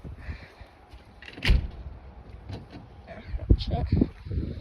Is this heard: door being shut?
yes